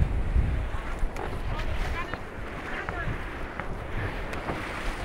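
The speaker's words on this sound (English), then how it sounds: "There's a big gust coming!" Strong wind gusting at sea on Big Bay, Cape Town, during a windsurfing session, blasting the microphone as a loud, rushing roar with water splashing underneath and a few faint voices in the background.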